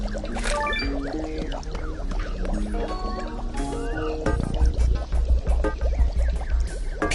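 In the Adventure Time video game, water runs from a faucet into a sink to make soapy water, a splashing, filling flow that grows stronger partway through, layered under game music.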